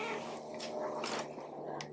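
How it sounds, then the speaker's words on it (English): A pet cat named Peanut meowing indoors, a few short, close mews spaced across a quiet room with a faint background hum. "meowing"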